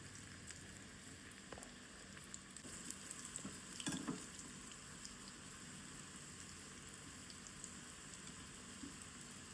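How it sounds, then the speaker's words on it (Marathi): Gram flour battered bhaji fritters fry in hot oil with a continuous, rain-like close sizzle and a short burst of louder crackling partway through. "आतां ताका भजी कशी भाजुया आमी"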